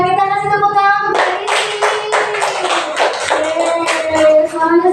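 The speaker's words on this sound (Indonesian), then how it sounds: "Wah, kita kasih tepuk tangan untuk" A classroom bursts into loud, close applause of many hands clapping for several seconds, starting just after a brief voice.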